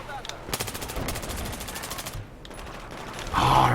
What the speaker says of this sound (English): Who was shooting me?